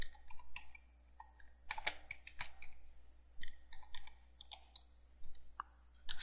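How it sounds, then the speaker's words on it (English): Someone types on a computer keyboard, irregular bursts of key clicks, some quick runs and some single taps, close and moderately loud with no talking. "So you need to type that exact same thing in here."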